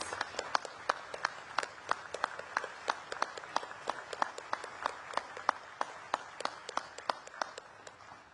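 A Veterans Day observance audience applauds national veterans' leadership, steady hand claps from many people ringing out evenly and continuously, moderately close and without talk.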